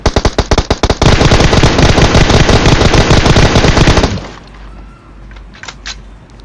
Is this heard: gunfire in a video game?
yes